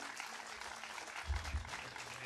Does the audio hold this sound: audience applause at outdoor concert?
yes